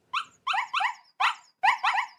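A dog barks six times, loud and close, in quick sharp yelps grouped in short bursts with brief silences between, no voices.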